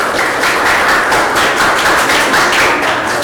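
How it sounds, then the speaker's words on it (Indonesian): An audience applauding at an Indonesian school lesson, a dense, steady patter of many hands clapping together, loud and continuous throughout with no talk over it. "Kita kasih aplaus."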